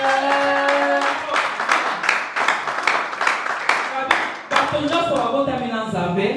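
A worship congregation at a charismatic Christian convention claps in rhythm for the Lord. The clapping is steady but partly buried under a loud voice and musical tones.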